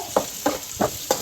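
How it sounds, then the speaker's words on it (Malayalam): Onion sautés in a pan with four evenly spaced scraping stir strokes over a low, constant sizzle. "നമ്മള് ഉള്ളി വാടാണ്."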